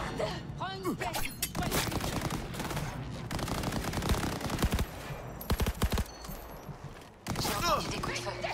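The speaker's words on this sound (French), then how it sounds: "J'ai entendu des coups de feu." Rapid bursts of automatic gunfire and single shots crack out in Cyberpunk 2077 during a shootout, loud and dense with short pauses, mixed with game effects and voices.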